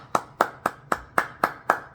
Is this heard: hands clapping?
yes